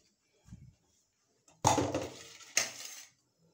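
Dishes set down in a kitchen sink for washing, heard as two sharp clattering clinks about a second apart after a soft knock, close and fairly quiet.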